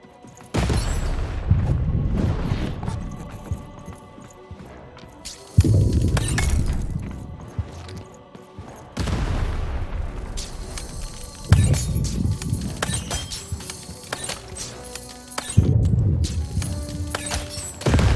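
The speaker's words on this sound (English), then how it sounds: "the button to fire the cannon" A cannon fires in the Lost in Random video game, several loud booms each followed by crashing and shattering debris, spaced a few seconds apart with quieter gaps between, no one talking.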